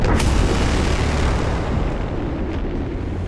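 A deep, heavy boom of torpedoes striking a Japanese ship amidships in World of Warships opens loud, with a sharp crack, then rumbles on and slowly fades.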